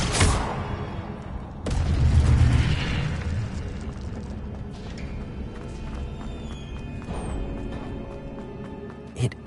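Fiery whooshing burst from an Incendio spell cast in Hogwarts Legacy, a loud rumbling blast that swells and then fades into lingering crackle and game ambience.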